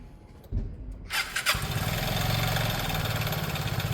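A Piaggio Liberty scooter's small engine cranks, catches after a second, and settles into a steady, buzzy idle, close by and fairly loud.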